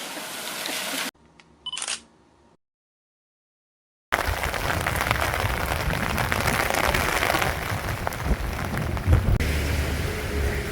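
Steady, loud rain pours down on a rainy seaside town during a thunderstorm, a continuous dense wash of noise after a brief quiet gap near the start, with a camera click heard early.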